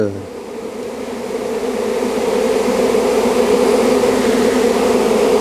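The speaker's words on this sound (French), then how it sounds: "Un nuage d'abeilles, on peut voir un nuage d'abeilles là." A honeybee swarm buzzes around an apple tree as it regroups, a dense, loud, continuous drone of many wings that swells slightly and holds close by.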